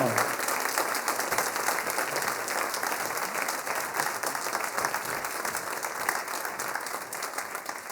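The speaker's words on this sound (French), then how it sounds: "est l'harmonie sous la direction de Nicolas, on l'applaudit bien fort." Audience applause for a concert band at an autumn concert, steady dense clapping filling the whole stretch, loud and continuous with a faint crowd murmur beneath.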